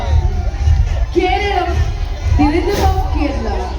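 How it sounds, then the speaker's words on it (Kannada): Crowd noise at an Independence Day celebration in Karnataka, a steady roar of voices with scattered cheers and whoops rising and falling throughout, a loud, dense, continuous mass of sound with a few shouting voices standing out. "ತಂಡಗಳು ಬಂದಾಗ ತಮ್ಮ ಚಪ್ಪಾಳೆಗಳ ಮೂಲಕ ಅವರಿಗೆ ಪ್ರೋತ್ಸಾಹವಿರಲಿ"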